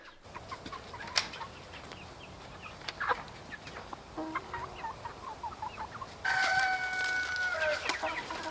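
Chickens cluck and chirp steadily, with a rooster crowing loudly near the end; several birds sound close by.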